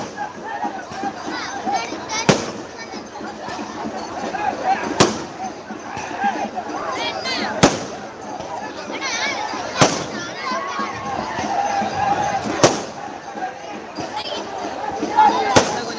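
Sharp firecracker bangs burst every couple of seconds over steady crowd chatter and voices at a village temple festival in Tamil Nadu, the cracks loud and close amid the background noise.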